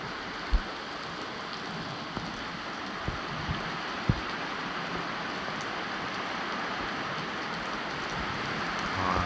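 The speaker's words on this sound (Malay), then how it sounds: "hujan lebat di kampung Igan ribut" Steady heavy rain pouring down during a storm in Kampung Igan, a dense, continuous hiss, with a few louder drips or knocks standing out near the start.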